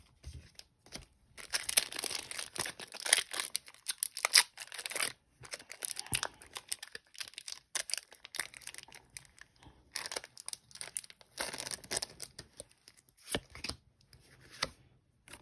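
Foil Pokémon booster packs from the Black Bolt / White Flare set being torn open and cards shuffled, a run of close, crisp crinkles and rips in uneven bursts with brief pauses.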